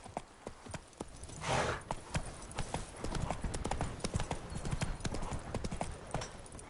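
A horse's hooves clip-clop in The Witcher 3: Wild Hunt, a brisk, even rhythm of close, crisp hoofbeats over a soft background bed.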